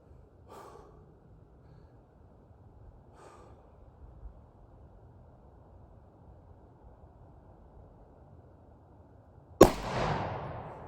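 One sharp gunshot at a can during outdoor target practice, heard as a sudden loud crack near the end after a long quiet stretch with faint breathing.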